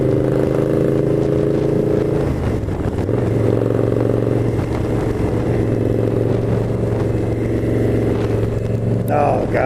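A 2016 Indian Scout motorcycle is ridden, its loud, steady engine drone filling the whole stretch, with a gear change or shift in pitch partway through.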